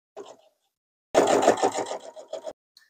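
Sewing machine stitching a quilt binding seam, giving a close, loud burst of rapid mechanical whirring for over a second after a brief short run, then stopping.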